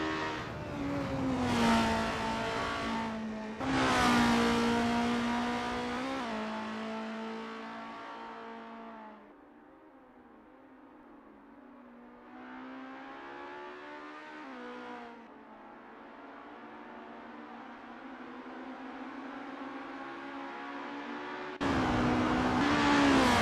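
Race cars warm up at Lake Garnett for a 1963 ACF Formula Championship round. Loud engines rev and rise in pitch in repeated sweeping pulls, then drop to a lower idle before another car roars close again.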